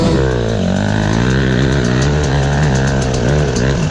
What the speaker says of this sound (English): Yeah, I have a two-stroke.